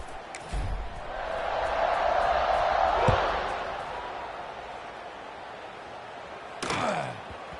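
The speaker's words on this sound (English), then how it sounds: "this crowd is buzzing after that last score" Stadium crowd in a college football video game buzzes with a swelling, roaring murmur that peaks and fades, broken by a sharp thud and a later whooshing hit.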